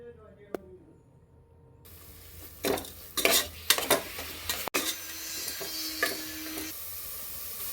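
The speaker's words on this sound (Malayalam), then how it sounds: "ഇതിലേക്ക് അല്പം മഞ്ഞൾപ്പൊടി മല്ലിപ്പൊടി എരിവിന് ആവശ്യത്തിനുള്ള മുളക് പൊടിയും ചേർത്തിട്ടുണ്ട് ഒന്ന് വഴറ്റാം" Spoon stirring and scraping in a pan while turmeric, coriander and chili powder are sautéed for a chickpea curry gravy, with faint sizzling, several clinks of utensil against metal and someone talking quietly.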